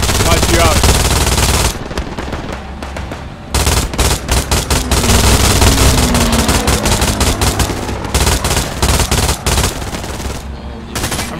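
Sustained bursts of MG42 machine-gun fire in the World War II shooter Hell Let Loose, loud and close, with brief pauses between long rattling strings of shots under game battle noise.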